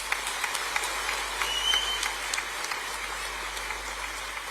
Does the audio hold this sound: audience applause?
yes